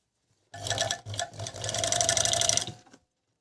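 A Gemsy RXM2000A coverstitch sewing machine whirs close up in a burst of stitching lasting a few seconds, with a brief pause near the start before running steadily and then stopping.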